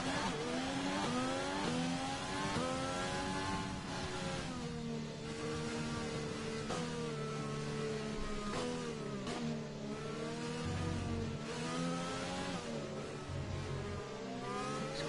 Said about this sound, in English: There's a McLaren going out, and we're going to go out just behind that McLaren.